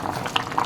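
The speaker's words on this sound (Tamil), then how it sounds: "இப்போ வந்து குழம்பு நல்லா கொதிச்சாச்சு." Radish curry with cowpeas bubbling in a pot on the stove, a steady close simmer with soft pops and gurgles through the short moment.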